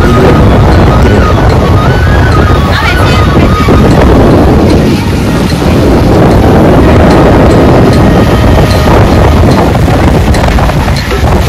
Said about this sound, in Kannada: ದೊಡ್ಡ ದೊಡ್ಡ ಅಲೆಗಳು ಸಮುದ್ರ ತೀರದಲ್ಲಿರುವ ಬಂಡೆಗಳಿಗೆ ಬಂದು ಒಲಿಸುತ್ತಿದ್ದವು.